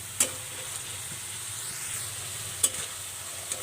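Chilli powder, salt and spices frying in a pan for a lentil and cauliflower curry, a soft steady sizzle with a couple of sharp stirring clicks, quiet and close.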